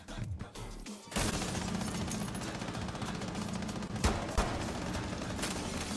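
Video game gunfire rattles in a dense, continuous burst of rapid shots after a brief pause at the start, loud and close, with a couple of sharper hits near the end.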